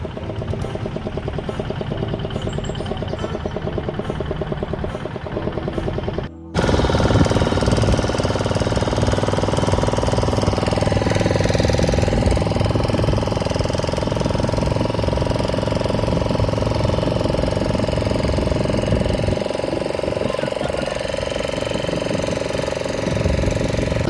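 A fishing boat's engine on the way back to shore after night fishing: a loud, steady chugging diesel-like drone with rhythmic knocking, a brief cut early on, then continuous heavy running close by.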